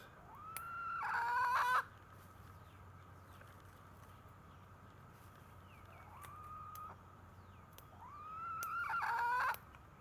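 Roosters crow twice, long rising calls with a faint crow between, over a quiet outdoor background.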